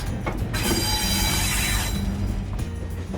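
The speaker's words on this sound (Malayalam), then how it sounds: "അങ്ങനെ പുനലൂരിൽ നിന്നും ട്രെയിൻ നീങ്ങി തുടങ്ങി." A train pulls out of Punalur station on the Kollam to Sengottai line, its wheels squealing loudly and steadily over a rumbling, rattling rail noise that carries through the whole stretch.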